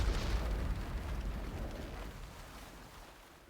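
A fire ship rams and explodes in Age of Empires 3, a deep booming blast with a rumbling roar that starts loud and slowly fades away over a few seconds.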